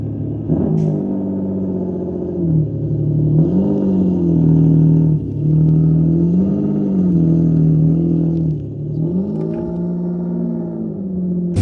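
A car engine hums and rumbles at close range while driving through Miami, its pitch rising and falling as it accelerates and shifts, with a steady cabin drone throughout and no talking.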